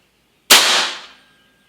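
A Snowpeak AP-1000 air rifle rated at 42 joules fires once without its shroud or moderator: a single loud, sharp crack close by, ringing out briefly into silence.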